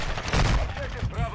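Dense bursts of gunfire from the shooter Call of Duty, likely a shotgun, crackle in quick succession, loud and close, with a louder cluster early on amid other game noise.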